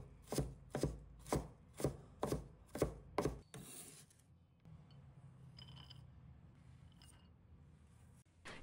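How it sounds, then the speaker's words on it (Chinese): A knife finely mincing carrots on a board in a home kitchen, with seven sharp, evenly spaced chops close up, followed by quieter rustling and faint scraping. "最后切成细碎均匀的胡萝卜末，每一刀落下都能闻到清新的蔬菜香气。"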